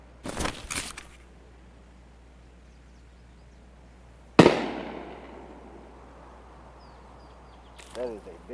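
Gunshots in the video game Escape from Tarkov: a loud, sharp nearby shot rings out with a decaying tail, after an earlier cluster of rapid cracks, with a quiet lull between them and a brief fainter burst at the end.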